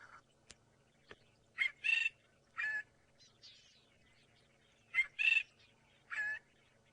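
A drongo perched out in the open at sunrise on an African safari drive, giving repeated clear, sharp metallic calls in short bursts with pauses between them. The calls are fairly close and carry over quiet bush background.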